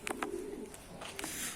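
On a rooftop in Adana, pigeons being fed coo softly in short low bursts, with a few brief higher chirps against a steady open-air hiss.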